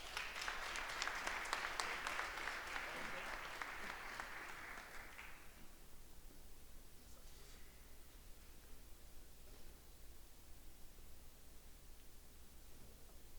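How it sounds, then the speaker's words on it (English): Round of applause from the audience at a men's basketball coach's introductory press conference, a dense clatter of many hands that fades out after about five seconds, leaving quiet room noise. "another round of applause"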